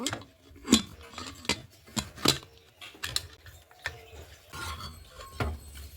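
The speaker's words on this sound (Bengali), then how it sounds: "এখন ঢাকনাটা ঢেকে সিটি মেরে নেব।" A metal pressure cooker lid being fitted and closed over arhar lentils gives a series of sharp, close clinks and clattering knocks with short quiet gaps between them.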